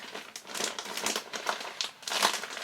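Crinkly outdoor gear crumpled and folded to pack it away, producing irregular bursts of close crackling and rustling in uneven rhythm with no talk.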